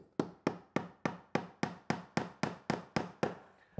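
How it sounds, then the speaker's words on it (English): About a dozen sharp, evenly spaced blows from a small-headed hammer driving ring shank nails into a carpet door bar on stairs, each ringing briefly before the next, close and loud with no talking. "to install the door bar, we use our ring shank nails again and our small headed hammer"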